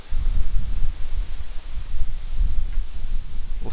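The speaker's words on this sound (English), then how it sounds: "We'll switch to your audio too so they can hear how windy it is." Strong wind buffeting a microphone outdoors near a tennis court, a continuous loud low rumble with gusty swells and no speech.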